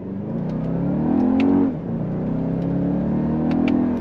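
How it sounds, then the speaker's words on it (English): A 2024 Toyota Grand Highlander turbocharged hybrid SUV accelerating, heard from inside the cabin as a steady engine and electric motor drone that swells, dips briefly around a shift, then builds again. "Definitely feel the pep from that turbocharged engine and the electric motor."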